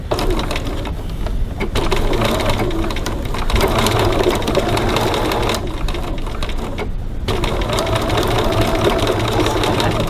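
A sewing machine stitches a bag strap, starting mid-strap, with a steady loud motor whir and rapid needle clatter, broken by two short pauses as the work is adjusted.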